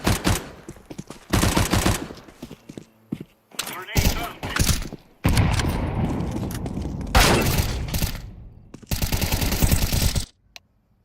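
In a tactical shooter video game, loud bursts of automatic gunfire alternate with heavy thuds and blasts from a grenade, separated by short silent gaps, with voices at times.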